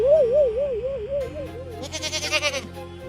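A young goat kid bleats in a long, wavering cry that trembles up and down. A brighter, rougher bleat follows near the end, close and clear with no talk over it.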